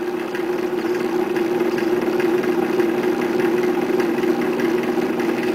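A blender blade spins through thick cauliflower hummus, giving a steady, continuous motor hum with a slight strained wobble, fairly close and alone.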